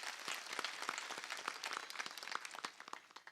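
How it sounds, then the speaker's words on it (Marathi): Audience at a kirtan in Kushta clapping together, a dense spread of hand claps with no voices, steady at first and thinning toward the end. "त्यांच्याही करता एक वेळा टाळ्या वाजवा."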